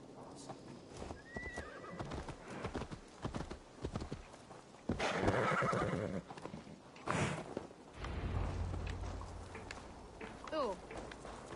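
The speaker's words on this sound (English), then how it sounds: "Let's return the horse." Horse in Assassin's Creed Valhalla whinnying and clip-clopping, with hoofbeats and neighs rising and falling over game ambience and a burst of louder movement midway, alongside brief speech.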